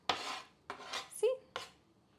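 A well-used kitchen knife crushes garlic in a GTA5 roleplay kitchen, with three or four close, sharp scraping thuds and a short metallic squeak between them.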